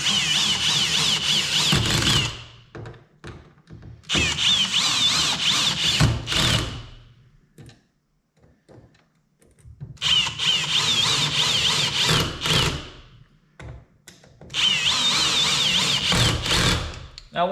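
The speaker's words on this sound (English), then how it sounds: "I'm gonna use a drill. Obviously, I'll lower the torque." A power drill with lowered torque drives screws through an adapter plate on an Old Town Sportsman kayak, running in four separate bursts of two to three seconds each with quiet gaps between them, close by and loud.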